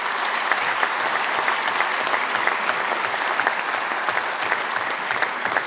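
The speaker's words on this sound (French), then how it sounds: "mais je pense que vous pouvez les applaudir pleinement." Dense, sustained applause from a large crowd at a national young farmers' congress, steady and full for several seconds with no voices over it.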